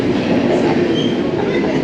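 A train passes nearby with a loud, steady rumble and rolling wheel noise.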